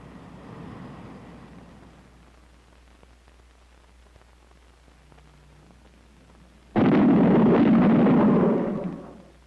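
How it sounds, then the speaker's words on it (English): Aircraft in transonic flight producing shock-wave bangs: faint rumbling and small sharp cracks, then a sudden loud booming blast that holds for about two seconds before dropping away. "Those bangs were shock waves from an aircraft in transonic flight."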